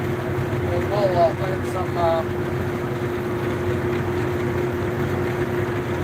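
A tractor pulling a mower through a corn field to chop stalks, its engine a steady close drone with a constant hum. Someone speaks briefly near the start.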